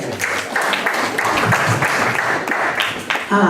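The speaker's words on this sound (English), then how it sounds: "Clap her up, please." Listeners at a 2019 poetry reading clap for a poet returning to the stage, a lively burst of many hands with individual claps standing out, slightly uneven and continuing for a few seconds.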